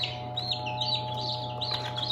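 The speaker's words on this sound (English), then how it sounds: "So there's 9 chickens that we hatched." Newly hatched chicks peep with high, repeated chirps over a steady electrical hum from an incubator or brooder, the calls fairly close and continuous throughout.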